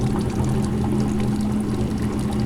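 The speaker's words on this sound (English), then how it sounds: "You can hear the water draining." Water gushes and pours steadily as a Maytag washing machine drains during its spin cycle, with a low humming pump underneath, constant and close, no voices.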